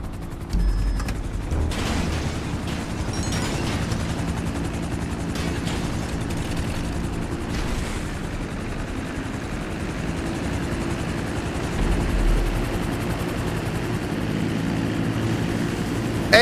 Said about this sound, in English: you could grab my chopper.